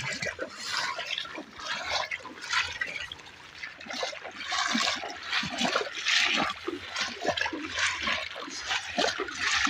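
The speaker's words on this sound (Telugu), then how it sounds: "ఎలా వాటర్ ఫ్లో అవుతున్నాయో" Rainwater rushes and trickles along a flooded village road after heavy rain, a continuous splashing flow close by, with a voice talking intermittently over it.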